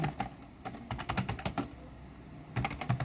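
Code being typed on a computer keyboard: close, quick bursts of key clicks in short runs with a brief pause midway, no talking.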